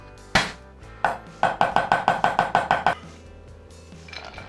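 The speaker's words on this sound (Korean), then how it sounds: "생강은 잘게 다져주세요" A knife finely mincing ginger on a cutting board, heard as a quick run of about ten crisp, evenly spaced chops after a couple of separate strikes, close and fairly loud, with no talking.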